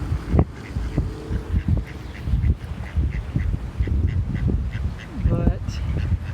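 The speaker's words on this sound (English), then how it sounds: "Duck." Duck quacks at a busy Hamacon convention, a few short nasal calls popping out over constant crowd chatter and nearby talking.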